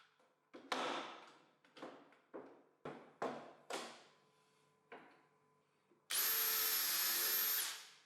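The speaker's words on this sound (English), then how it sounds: "All that's left now is to drill some holes and fasten the tool holder to the back of the bench" Several short bursts of a power drill drilling holes in a workbench in quick succession, then one longer steady run of the drill, close by with no talking.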